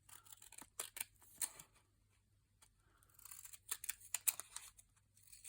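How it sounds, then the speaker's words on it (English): Quiet, close snips and crisp slicing of cheap children's scissors cutting paper in irregular bursts, with a brief pause in the middle. "These are just cheapo kid scissors from the range."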